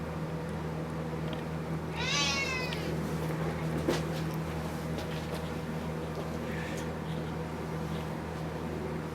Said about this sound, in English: What you meowing about?